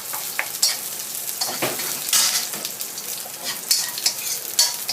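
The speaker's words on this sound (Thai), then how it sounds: "ใส่ กระเทียมสับลงไปค่ะ" Minced garlic added to shallots already turning golden in a pan while cooking pad thai, sizzling and frying steadily with a stirring scrape, close and moderately loud, with no talking.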